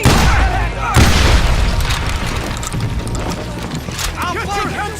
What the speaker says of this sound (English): They're shooting in the street!